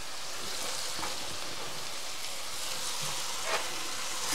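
Sliced porcini mushrooms fry in a hot pan, a steady dense sizzle close by with a few faint stirring clicks and no talking.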